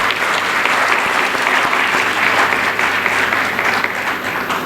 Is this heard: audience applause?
yes